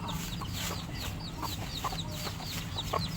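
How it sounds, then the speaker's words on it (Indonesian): Several chickens cluck repeatedly in short, scattered calls outdoors against a constant hiss of ambient noise. "ini ayam-ayam saya terus berkeliaran"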